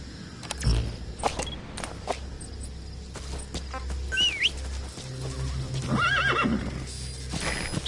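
A horse in the Metal Gear Solid video game whinnies twice over a steady clip-clop of hooves on open ground, the neighs standing out loud and close against faint ambient birdsong.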